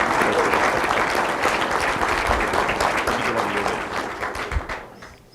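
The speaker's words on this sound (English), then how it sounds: "give him a little clap" Warm applause from a lecture audience at an annual lecture on aging, steady dense clapping that continues throughout and trails off at the close.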